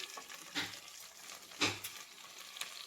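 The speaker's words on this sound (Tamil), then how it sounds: "இப்போ அந்த பவுடர் இதோட சேர்த்து நல்லா சிம்லேயே வச்சு வறுத்துக்கலாம்" Ivy gourd stir-fry roasting with spice powder in a pan on low heat, a soft steady sizzle with two louder scraping stirs close by and a lighter one near the end, no talking.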